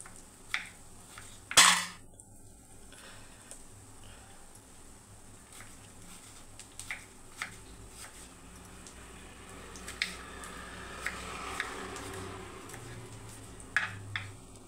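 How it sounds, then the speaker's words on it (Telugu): A knife cuts yellow cucumber into small pieces on a board, giving scattered soft taps and clicks with one sharp louder knock early, faint and irregular throughout. "చాలా చిన్న చిన్న ముక్కలుగా వచ్చే విధంగా అయితే కట్ చేసుకోవాలి."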